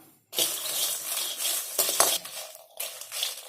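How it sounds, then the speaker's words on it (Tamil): Dry red chillies and garlic are roasted in a pan, heard as a close continuous rustling sizzle with stirring clinks and scrapes, alone without talk. "வரமிளகாய், பூண்டு, இது ரெண்டையும் லேசா வறுத்துக்கலாம்."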